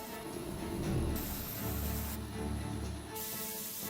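Silver spray paint hisses steadily from a spray gun onto a part during a Honda WIN110 motorcycle restoration, a close, continuous airy spray with slight pulsing and short breaks.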